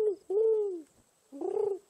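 Pigeon-like cooing bird call in the survival video game Raft, heard as three close, fairly loud coos with pauses between, alone without talk.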